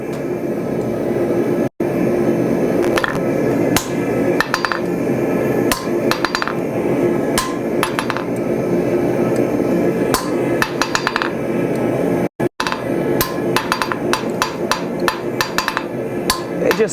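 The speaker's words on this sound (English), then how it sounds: "I did not need to hit the anvil that many times." A blacksmith's hammer rings against an anvil while forging a decorative leaf, a long run of sharp metallic strikes in steady bursts with brief pauses, loud and close over constant forge or workshop roar.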